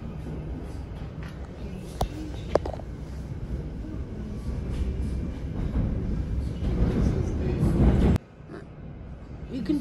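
A passenger train rumbles steadily along the tracks in Merseyside with a low, continuous roar, swelling louder near the end before dropping off abruptly; faint voices murmur underneath.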